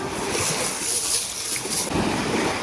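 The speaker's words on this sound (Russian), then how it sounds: "Волна сейчас тебя утащит." Sea waves wash onto a Batumi beach in Georgia, a steady broadband surf roar with a swell near the end, mixed with wind buffeting the microphone.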